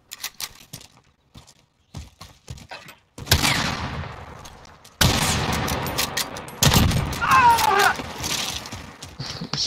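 Gunfire in a first-person shooter game comes as bursts of rapid, sharp shots, scattered light cracks early on, then louder sustained volleys mixed with game noise and a little speech.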